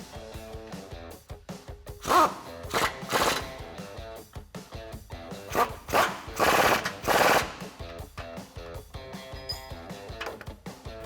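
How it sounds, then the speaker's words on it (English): Power tool tightening 24mm lower control arm bolts on a 2007-2021 Toyota Tundra during a 3.5-inch bolt-on suspension lift install. It gives several loud, rattling bursts separated by short pauses, close by, with no talking. "now we're gonna tighten up our lower control arm bolts using 24mm tools"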